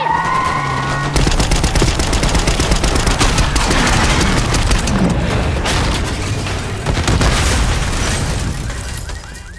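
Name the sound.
gunfire in the video game Call of Duty Black Ops 6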